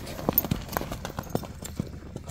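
Hooves of a young stallion at a horse sale clop in a quick, uneven rhythm close by, a string of sharp knocks lasting a couple of seconds.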